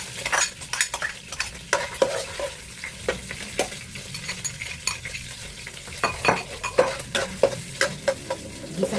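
Garlic sautéing in cooking oil, a close, crackling sizzle broken up by quick rhythmic spatula stirs and scrapes against the pan.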